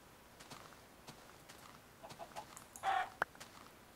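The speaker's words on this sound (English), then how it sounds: "A chicken!" A Minecraft chicken gives a short, faint cluck over soft footsteps and low ambient game noise, followed by a tiny click.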